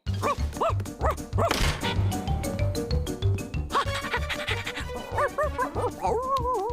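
A dog yips and barks in quick bursts with some whimpering, over a steady rhythmic background beat, in an animated cartoon.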